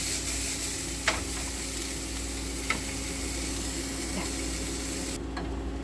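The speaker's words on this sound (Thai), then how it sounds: "ตอนนี้ก็จะผัดถั่วงอกนะคะ" Bean sprouts stir-fry in a pan for oyster omelette, giving a steady broadband sizzle with a few sharp clinks of a utensil against the pan, close and continuous throughout.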